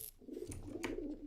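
A pigeon in the Dark RP roleplay video game gives a faint, short cooing call lasting about a second.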